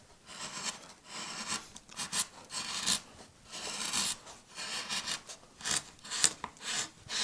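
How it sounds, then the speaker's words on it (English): A chisel slices and scrapes across wood while carving a stylised tree in relief, making repeated short rasping strokes of varying length, close up and steady, with no voices. "So still using a chisel, from here particularly,"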